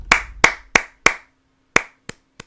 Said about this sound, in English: We'll go golf clap.